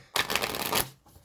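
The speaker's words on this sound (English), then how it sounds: "Let's pull some more oracle cards here." A deck of oracle cards is riffled in one close, brisk shuffle lasting under a second, a dense fluttering rush that stops abruptly, with no speech.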